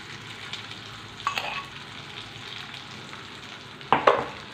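Pounded panch phoron spices hit hot oil for a green chilli pickle. Two sharp bursts of crackling sizzle stand out against a low, quiet background fizz, without any speech.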